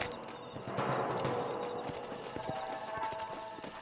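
Horses in the Red Dead Redemption video game clop along at a walk, their hooves beating at an even pace, fairly quiet against a soft wash of game ambience.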